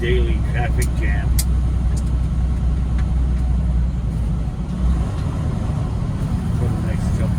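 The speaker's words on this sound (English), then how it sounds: "Daily traffic jam." Road traffic crawling in a daily traffic jam near Wilsonville, Oregon, heard from inside a truck cab: a continuous, loud, low engine rumble and road roar with no break.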